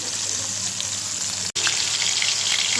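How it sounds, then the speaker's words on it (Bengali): Chapila fish coated in turmeric and salt fry gently in oil, giving a dense, even sizzle up close that drops out for an instant midway before carrying on. "মাছগুলো ভেজে নিচ্ছি"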